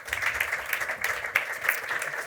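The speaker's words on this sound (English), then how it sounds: "could I have a round of applause for our panel" An audience applauds a conference panel, with steady, dense clapping at moderate loudness that carries evenly throughout without any talk over it.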